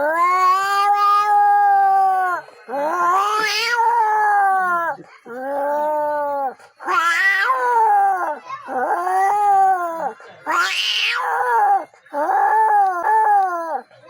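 A person imitates a cat's meow, giving a series of drawn-out, wavering vocal meows and yowls one after another, loud and close, with short pauses between them.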